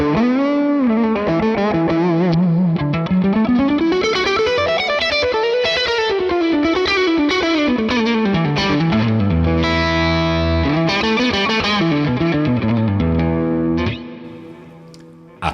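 Heavily distorted electric guitar played on a high-output humbucker through a Morgan amp plugin, with sustained bent notes and chords ringing thick and saturated, closing with a quick fade.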